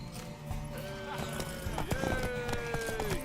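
Hoofbeats of a galloping horse in The Witcher 3 during a race, a rhythmic clip-clop mixed with a whinny and dense game sounds, with voices talking over it.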